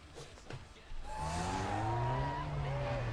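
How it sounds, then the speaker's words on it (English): A car in Need for Speed: Underground 2 with no turbo fitted, giving off a blow-off valve style whoosh and hiss among engine revving and tire squeal, loud and close, with a voice talking early. "it's like giving me a blow-off valve noise, but I don't even have a turbo"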